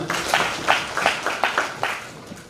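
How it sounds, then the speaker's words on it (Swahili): Crowd applause honoring secondary school head teachers at a public gathering, heard as a brief burst of rhythmic clapping from many hands at moderate distance. "tuwapigie makofi tafadhali"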